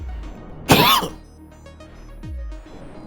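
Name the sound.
cough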